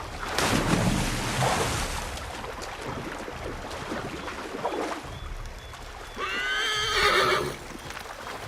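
In the video game Assassin's Creed 3, a ridden horse clip-clops amid rushing ambient noise, then lets out a loud, close, quavering neigh near the end.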